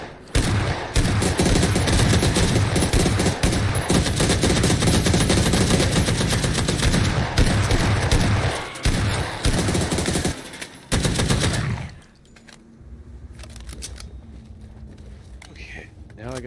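Dense gunfire in the video game PUBG, sustained rapid automatic bursts that break off near the end, with people talking over the shooting.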